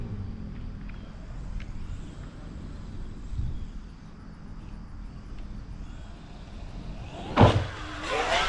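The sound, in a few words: road traffic, cars passing by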